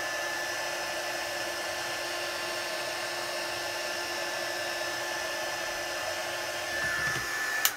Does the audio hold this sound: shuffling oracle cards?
no